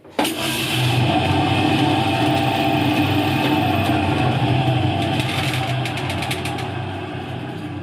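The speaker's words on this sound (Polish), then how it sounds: "teraz jak przełączę na wirowanie i włączę to powinien obracać się bęben" A 1962 Cygnus Alba spin washer's motor hums steadily and loudly, its drum rumbling as it spins continuously, with worn motor bearings; a rattling texture rises near the end before easing slightly.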